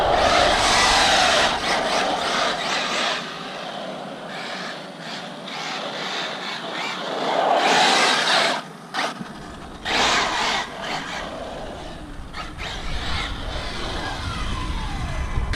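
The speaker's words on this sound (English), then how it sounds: "the steel pinion and steel spur together give it that real nice whine" Arrma Mojave 6S RC truck with a steel pinion and steel spur gear, giving a high whining drive note that surges and fades in bursts over rough outdoor ground, with a brief lull midway.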